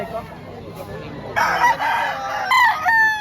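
A gamefowl rooster at a market in Lipa, Batangas crows loudly and close, a strong drawn-out call in the second half over background murmur and faint talk.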